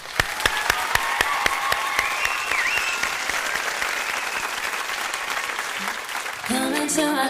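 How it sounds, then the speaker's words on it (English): A studio audience applauds a live singer with dense, sustained clapping and a few sharp individual claps, loud and close, before music starts at the very end. "Big round of applause to her."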